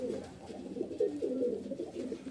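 Domestic fancy pigeons held in the hand coo steadily in low, rolling, throaty bursts, close and fairly clear over a quiet room tone, with a louder swell around the middle.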